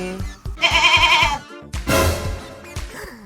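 A goat bleats twice in a village setting, with two loud, wavering, nasal calls separated by a short gap. Faint thumps and background noise sit between the calls.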